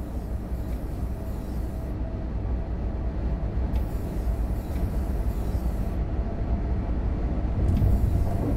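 A BR 101 locomotive hauling an IC on the Riesa–Dresden line in Train Sim World 4 rumbles steadily along while overtaking a regional express, a continuous loud rolling drone with wheel and rail noise.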